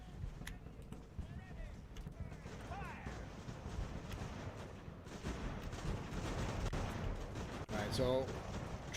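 Muzzle-loading artillery booms in a naval age-of-sail battle game as guns bombard loyalists fortified in a church, repeated reports rolling under steady battle noise, with a voice talking over the scene.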